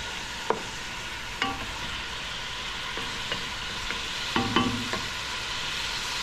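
Beef cooks in oil in a pan with a steady soft sizzle and scattered clicks and scrapes of stirring, heard up close with no voices.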